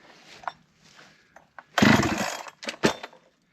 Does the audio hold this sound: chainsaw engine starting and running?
yes